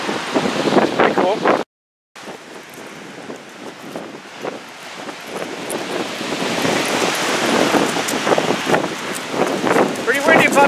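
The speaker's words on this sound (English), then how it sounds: "Pretty windy" Strong wind gusting outdoors around a truck with a Great Dane along on an RV trip, a steady rushing buffet broken by one brief dropout, with a voice talking over it.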